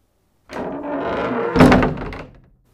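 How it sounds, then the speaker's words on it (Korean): A door opens in a horror audiobook scene: a sustained creaking scrape builds for about a second, then a solid wooden thunk lands and fades out. "귀엽은 문을 열고 그 안으로 들어갔다."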